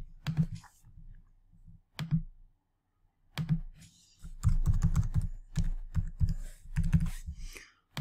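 Keys clack on a computer keyboard in short scattered bursts, then in a denser run of typing, close up and with no talking.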